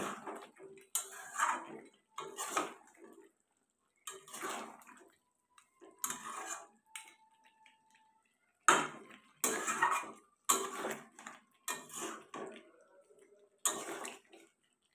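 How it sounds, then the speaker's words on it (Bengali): Pieces of goat meat being braised and stirred in a pot for a spiced curry give repeated bursts of metal scraping and clattering separated by short quiet pauses, close and moderately loud, with no talking. "জলটা যতক্ষণ না শুকাচ্ছে ততক্ষণ পর্যন্ত আমাকে মাংসটাকে কষাতে হবে ভালো করে"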